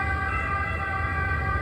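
An ambulance siren wails continuously through a street in Naples, steady and fairly loud over low traffic rumble, with no voices.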